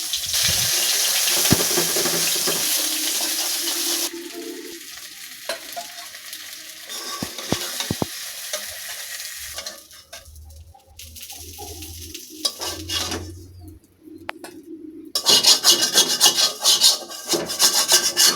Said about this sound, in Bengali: প্রথমে আমি কড়াইতে তেল দিয়ে মাছগুলো ভেজে তুলে নেব